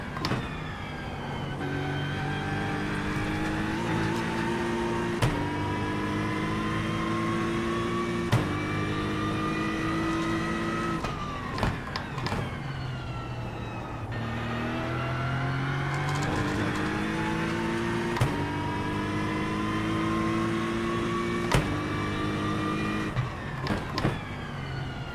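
An iRacing race car laps Bathurst, its engine loud and close, climbing steadily in pitch through each gear, with short gaps at upshifts and a brief drop before it revs up again.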